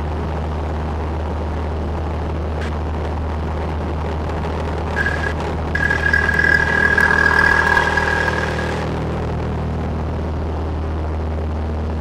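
Light aircraft piston engine holding a steady 2300 RPM during a run-up check, a constant low drone throughout with a brief higher whine rising over it midway.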